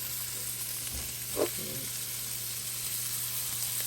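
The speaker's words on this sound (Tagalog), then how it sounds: "after the butter, garlic, a lot of garlic. So we can cook these crabs." Butter and plenty of garlic sizzle steadily in a pan before crabs go in, a constant close frying hiss with a brief stir or clink partway through.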